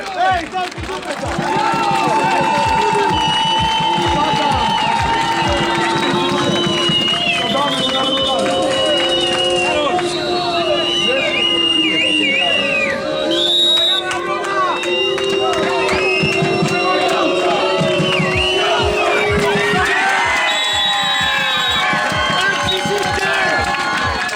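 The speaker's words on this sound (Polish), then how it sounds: "Proszę, wielkie brawa." A crowd cheers and applauds at a Polish beach handball championship semifinal. The noise is steady and sits beneath a loud announcer who talks over it throughout.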